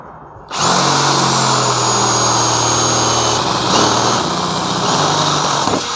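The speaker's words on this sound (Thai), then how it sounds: "ก็ทำการเจาะเลยนะครับท่านผู้ชมดูนะ" A DEWALT DCD706 cordless drill bores through material with a large bit, its motor whining loudly and steadily after a quiet start, the pitch shifting slightly under load before running on alone.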